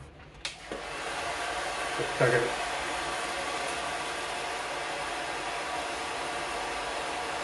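A hair dryer blows a steady, even rush of air across the whole span while hair is being styled into a center part. It sounds close and constant, with a short spoken remark near the start.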